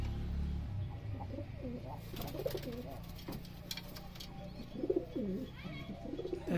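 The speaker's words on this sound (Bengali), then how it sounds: "এখানে আমার কবুতরগুলো ডিম বাচ্চা নিয়ে বসে আছে, আর এখানে কিছু রেসারের বেবি আছে।" Racer pigeons nest in a coop with eggs and chicks, letting out several clear, low cooing calls in gentle repeated bursts at close range.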